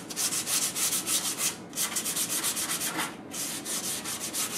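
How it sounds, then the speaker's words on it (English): Hand sanding of painted wooden furniture for a shabby-chic finish: close, steady back-and-forth rasping strokes in an even rhythm, each stroke a loud gritty swish, with a brief pause twice. "So all we do is just sand it up."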